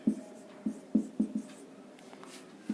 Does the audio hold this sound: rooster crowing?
no